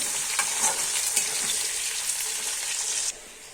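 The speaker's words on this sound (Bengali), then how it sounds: "এবার দিয়ে দিলাম পেঁয়াজ কুচি এটা ভালো করে একটু ভেজে নিতে হবে" Chopped onions sizzle loudly in a pan of hot oil with bay leaf, dried red chilli and whole garam masala, a continuous close frying hiss with light stirring scrapes that cuts off abruptly near the end.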